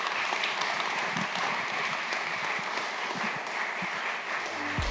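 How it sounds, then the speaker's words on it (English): Applause for a guest speaker at a fireside chat, a sustained even wash of many hands clapping across a hall, loud and continuous. "Please join me with a big applause to thank Dr. Starry LEE."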